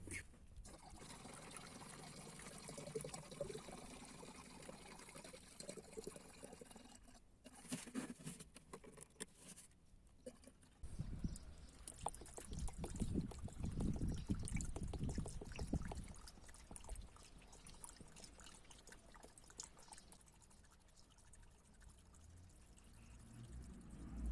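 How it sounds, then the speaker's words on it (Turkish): A 50/50 mix of water and blue antifreeze poured into a Hyundai Accent radiator, a faint patter and trickle of liquid that swells into a fuller pouring stretch midway, then eases back to quiet dribbling. "Gördüğünüz gibi şimdi buradan su koyacağız."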